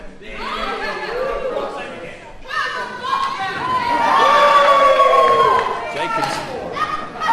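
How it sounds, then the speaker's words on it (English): Wrestling crowd during a three-way dance match, voices swelling into a sustained group chant with shouts and cheers, rising to a loud peak mid-way before easing, dense and reverberant throughout. "He's getting the crowd to chant for Black Jesus."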